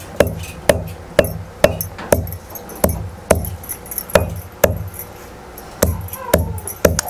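Roasted coconut being crushed on a grinding stone with sharp, repeated knocking strikes, about a dozen fairly regular blows at close range, with no talk over them.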